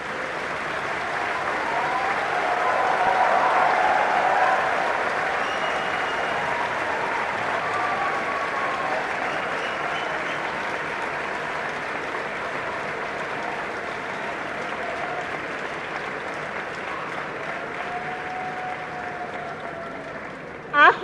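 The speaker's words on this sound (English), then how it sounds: "Please join me in extending a warm round of applause" A long, sustained round of applause from a large convocation audience at IIT Madras, swelling early and then holding steady as dense, even clapping for about twenty seconds.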